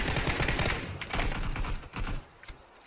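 Rapid gunfire in the PUBG video game, dense bursts of rattling shots in quick succession that thin out toward the end.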